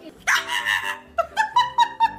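A dog gives a long whining bark followed by a quick series of four or five short, sharp yips, close and fairly loud, with no talk over it.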